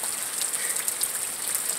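Heavy rain pours steadily during a thunderstorm, a dense continuous hiss of drops on surfaces, close and loud with no breaks.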